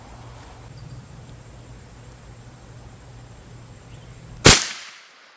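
A single sharp, loud crack from an Umarex Hammer big-game air rifle firing, standing out near the end over a quiet background hiss and dying away quickly.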